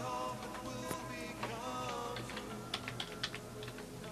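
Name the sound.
typing a password on a computer keyboard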